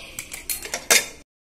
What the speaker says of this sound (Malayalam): നമുക്കിനി കുക്കർ ഒന്ന് തുറന്നു നോക്കാം.